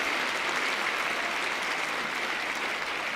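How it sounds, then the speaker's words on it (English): Audience applause at a school district convocation in Sun Prairie, a continuous wash of dense, even clapping from a large crowd, loud and sustained throughout. "please give them a round of applause"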